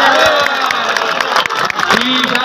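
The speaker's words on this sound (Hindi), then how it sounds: "जोरदार ताली।" Crowd cheering and shouting at a volleyball match between Waseem Sheikh's Bhakkar club and Jon Shah's side, loud and continuous with whoops and a few voices calling out over the roar.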